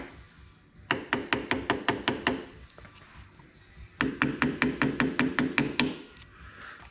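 Two quick bursts of about eight sharp, ringing hammer blows each, bending up a lock washer on a David Brown 880 Dowty hydraulic pump, close and clear with a short pause between sets.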